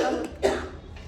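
A single short cough rises briefly in the middle of a quiet, slightly noisy background, no talking heard.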